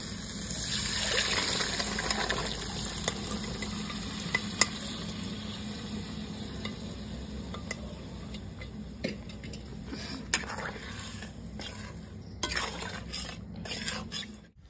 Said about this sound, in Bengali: এবার সেদ্ধ করা কাবলি ছোলাগুলো দিয়ে দেবো।